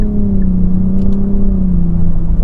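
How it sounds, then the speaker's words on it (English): A 2022 Nissan Rogue SV front-wheel-drive with a three-cylinder turbo engine accelerates in second gear, a loud, steady engine drone and whir heard from inside the cabin, its pitch gradually sliding lower, with no talking. "Let's give it a little bit of gas and feel out the front wheel drive and turbo."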